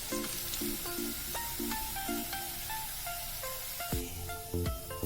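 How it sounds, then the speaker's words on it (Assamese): Boneless chicken pieces fry in oil for chilli chicken, a soft continuous sizzle running underneath louder melodic background music throughout. "আমি চিকেনখিনি এনেদৰে ফ্ৰাই কৰি ল'ম।"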